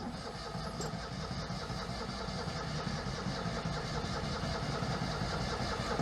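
Oltcit car engine, choked and run out of fuel, cranks steadily and evenly without catching, a continuous mid-pitched mechanical churn that stays level and close throughout.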